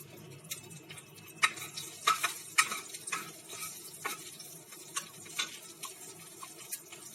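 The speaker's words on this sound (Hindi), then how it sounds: "इसमें हम 1/4 टीस्पून जितना हींग डालेंगे, 1 चम्मच जीरा।" Asafoetida and cumin seeds crackling in hot oil in a pan for a Kashmiri mutton kofta curry, a steady close sizzle with scattered sharp pops and stirring clicks, no voices.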